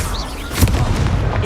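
A Confringo fire spell bursts with a loud, booming blast during a Hogwarts Legacy duel, its crack peaking sharply and then rumbling on among continuous low combat noise.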